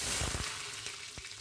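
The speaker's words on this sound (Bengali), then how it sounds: "আমের আচার ফোড়ন দিয়ে দিচ্ছি প্রথমে রসুন দিয়ে দিব" Whole garlic and spices sizzle and fry in hot oil for mango pickle, a close, steady hiss with a few soft stirring knocks.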